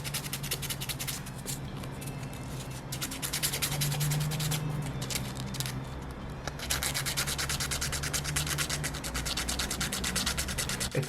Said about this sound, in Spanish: Puedes lijar acá un poco.